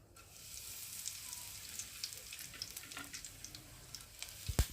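Dried red chillies sizzle in hot oil with darkened cumin seeds while making begun bharta, a steady, quiet crackling hiss with small pops, ending in a sharp knock.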